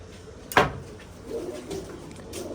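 Pigeons are handled and moved into a cage on a hot 42-degree day. A single sharp clatter from the cage rings out near the start, followed by faint, soft cooing in the background.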